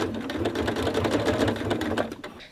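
Sewing machine running steadily as it stitches fabric for an embellishment, a continuous close mechanical whir with rapid needle ticking throughout, easing off at the very end.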